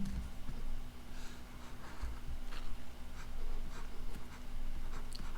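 Pen or marker scratching out a chemistry orbital diagram during a lesson, a soft intermittent scraping of strokes and taps, faint and close, over a steady low hum with no talking.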